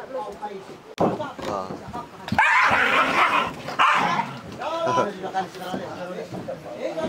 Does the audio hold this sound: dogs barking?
yes